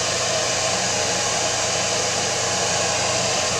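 A hair dryer blows steadily and loudly at close range as it dries a decoupage wood sign. Its continuous whooshing hiss stays even throughout, with no talk.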